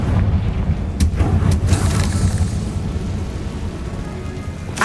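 Confringo fire blast spell cast in the Hogwarts Legacy video game, a loud rumbling burst that swells into a dense, crackling roar with a few sharp cracks, heard alone.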